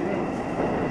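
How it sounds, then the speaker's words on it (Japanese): Steady rumbling of a local one-man passenger train on the Iida Line in Japan, heard from inside a carriage, a continuous broadband roar with no talking. "この列車は普通列車の電流橋行きワンマン列車です"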